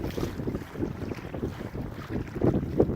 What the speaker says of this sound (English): The wind wants to blow me into that island